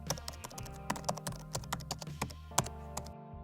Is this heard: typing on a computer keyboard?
yes